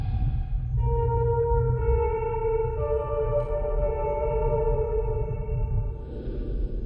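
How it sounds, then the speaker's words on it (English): A slow, soft piano melody from the game Fatal Frame: Mask of the Lunar Eclipse, single sustained notes stepping gently over a low rumbling ambient hum, without voices. "Play the piano by following the notes."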